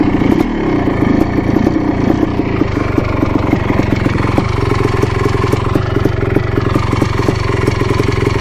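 Yamaha YZ 490 dirt bike with its engine running rich, a loud, close, continuous rough engine drone with a steady rapid pulsing throughout.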